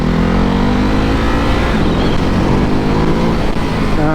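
A motorcycle fitted with a steering damper is ridden hard on a test ride. Its engine revs loud and close for the whole clip, with the pitch climbing as it accelerates and wind rush underneath.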